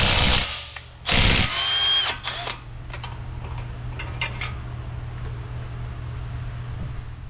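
A ratchet spins rapidly, clicking as a T55 Torx bit loosens a bolt on a 2016 Ford Focus 2.0. Loud bursts of rapid ratcheting come close up at first, followed by scattered lighter clicks and clunks over a low steady hum.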